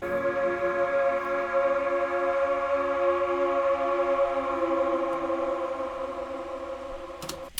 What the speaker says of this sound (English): This one's called the Cyber City pad, which I think is from the Sunset Cyberpunk Serum pack.